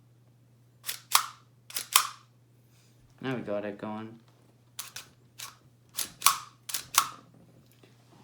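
Slide of a custom Hi-Capa airsoft pistol racked repeatedly: sharp metallic clacks in pairs, near and crisp, with a short burst of speech in the middle and a steady low hum underneath.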